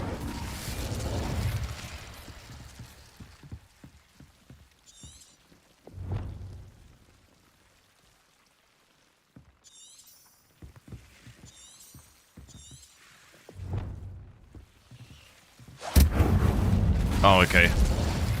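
Spell blasts from Confringo and Incendio cast in the Hogwarts Legacy video game: bursts of deep booming rumble with crackling debris, several impacts spread across the stretch and a loud final blast, with faint magical chimes between them.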